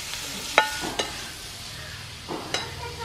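Two large chopped onions sizzle in a pan for a prawns roast, with a few sharp clinks and scrapes of a spoon stirring over a soft, steady frying hiss.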